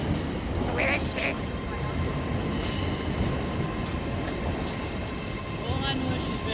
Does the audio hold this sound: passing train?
yes